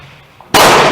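A single sharp, loud gunshot from a Springfield cadet trapdoor rifle fitted with a replacement barrel, breaking a near-silent moment and ringing on to the end.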